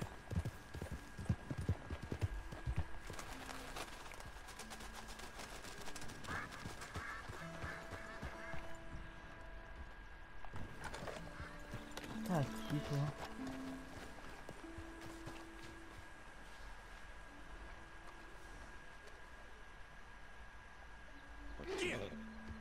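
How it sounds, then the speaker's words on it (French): A wild horse in the video game Red Dead Redemption 2 moves with faint, intermittent hoof clip-clops over quiet in-game ambience, with occasional other game sounds. "Un cheval sauvage"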